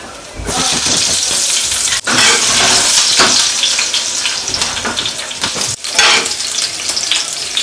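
Garlic and green chilli hit hot oil in a pan with a loud, dense sizzle that fills the whole stretch, broken by a couple of brief dips, with a few clatters of stirring.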